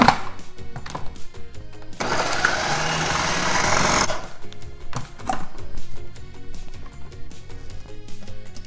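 A food processor finely chops sauce ingredients in a loud, steady whir lasting about two seconds, starting and stopping abruptly amid quieter kitchen sounds.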